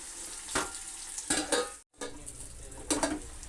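Onions sizzling in hot oil as a tempering for sambar, with a steady soft fry broken by a few bursts of spoon stirring and scraping against the pan.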